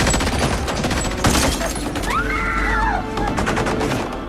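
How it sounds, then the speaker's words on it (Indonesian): A dense burst of gunfire with rapid overlapping shots, loud and close, while a rising and falling siren-like whine cuts through midway. "berhasil melepaskan tembakan ke arah Samidi CS"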